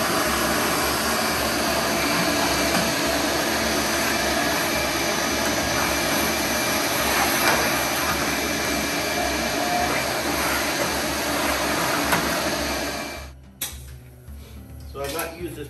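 Shop vacuum clearing leftover sawdust from a Frontier OS23 portable sawmill, a loud steady broadband whine and rush that holds for about thirteen seconds, then cuts off abruptly and leaves faint clattering behind it.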